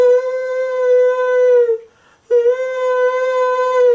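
A voice imitates a dog's long, wavering howl at night, two drawn-out sustained cries separated by a brief pause, loud and close.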